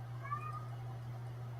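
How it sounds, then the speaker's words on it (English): A pet cat gives a single short, faint meow early on, over a steady low electrical hum in an indoor room. "And, of course, you can hear my kitty crying."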